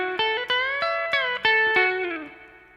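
A guitar plays a short lick, about eight quick picked notes with a slight overdriven bite, sliding along the neck before a final note that bends down and fades.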